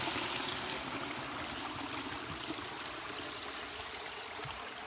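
Water runs steadily through a channel between rice paddies, a continuous close rushing and trickling flow with no voices over it.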